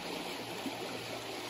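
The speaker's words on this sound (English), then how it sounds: "there's a pretty cool river" A river flows with a faint, steady broadband rush and soft trickling, heard from a distance alongside a roadside cycling route.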